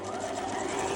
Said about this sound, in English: Now what you're going to do is you are going to sew around.